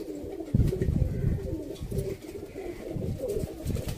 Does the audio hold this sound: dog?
no